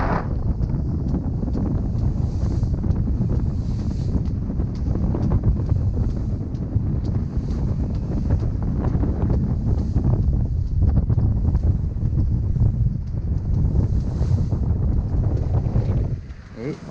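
Strong, gusty wind buffets the microphone aboard a sailboat heading toward Formentera off Ibiza, a loud continuous roar with irregular surges and water sounds beneath, while someone talks.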